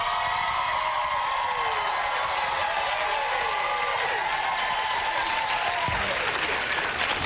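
Studio audience applause on a live morning talk show, a steady, full wash of clapping for several seconds, with a faint voice and brief musical tones sounding beneath it.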